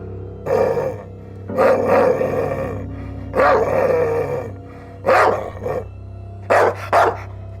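A pet dog barks repeatedly as a story sound effect, giving about five loud, close bursts with short pauses between them over a low background hum.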